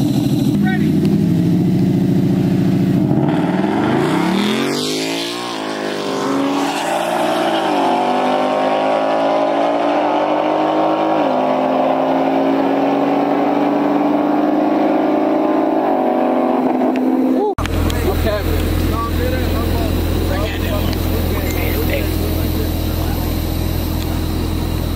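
A 10-speed Camaro and a 10-speed Mustang launch in a dig race, engines roaring loud and close, revving up through shifts for about seventeen seconds before the sound cuts to a steady rumble, with voices present.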